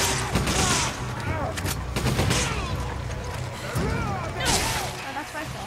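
Rifle gunfire from the video game Resident Evil 5 sounds in several sharp bursts and single shots across the clip, loud and close, amid other game noise.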